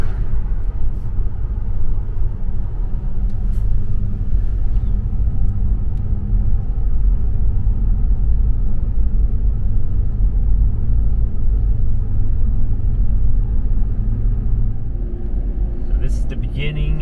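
A car climbing Going-to-the-Sun Road in Glacier National Park, heard from inside as a steady low engine and road rumble that holds constant throughout, with speech audible at times.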